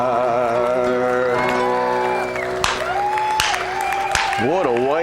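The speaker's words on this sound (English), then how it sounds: "I think we got more applause that time than we normally do" Audience claps, cheers and whoops after a live performance, with voices rising and shouting over the crowd noise, loud and close throughout.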